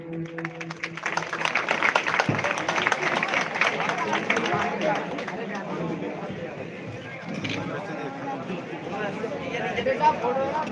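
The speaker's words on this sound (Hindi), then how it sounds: "जोरदार ताली बजाएं" An audience at the final round of a bhajan singing competition gives a dense, steady round of clapping for the best chorus master award, while voices carry over the applause.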